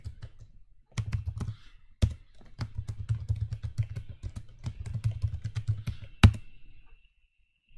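Keys clatter on a computer keyboard as a password is typed at a Linux root recovery prompt, a steady close run of taps broken by a few sharper strikes, with no voices, before falling silent.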